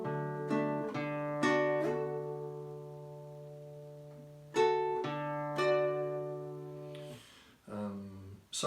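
A slow phrase of the folk tune Ashokan Farewell rings out on a sustained melodic instrument, long held notes with a slide into one, several clear separate phrases with pauses, played solo and close.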